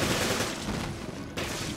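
Machine gun fire from the video game Resident Evil Revelations sounds as a loud, dense burst of rapid shots, close and continuous, with a brief dip before the firing resumes. No one speaks.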